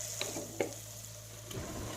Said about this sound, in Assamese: অকণমান সময় এনেকৈ গোন্ধটো যোৱালৈকে ভাজি ৰাখিব।